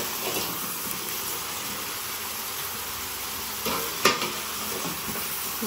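Goat kaldereta, about four kilos of meat, simmering and sizzling in a large pot while being stirred, a continuous close bubbling sizzle with a brief louder scrape of the spoon near the end.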